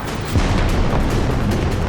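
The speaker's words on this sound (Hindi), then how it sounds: "सीधे उनके नीचे तोपें फटती हैं और नर्क टूट पड़ता है।" Anti-aircraft guns burst beneath a formation of B-17 bombers over Hamburg's oil refinery in Germany, a dense, continuous rumble of heavy booms and crackling blasts filling the air with no pauses.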